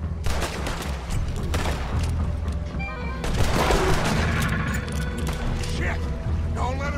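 Sustained gunfire in the video game Red Dead Redemption 2 rattles on loud and continuous throughout, mixed with shouting voices and chaotic action noise.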